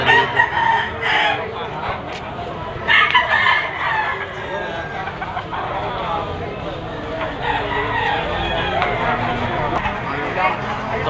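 A bull stag rooster at a gamefowl sale in Lipa City, Batangas crows several times over a steady background of other birds and nearby talking.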